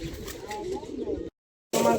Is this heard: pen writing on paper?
no